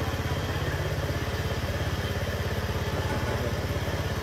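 A small portable generator engine runs steadily at idle with an even, rapid mechanical pulse and light clatter, close and continuous throughout with no talking.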